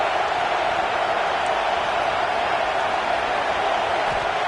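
Crowd roar fills a Michigan State football stadium, a steady, dense wash of many voices sustained evenly throughout without distinct peaks.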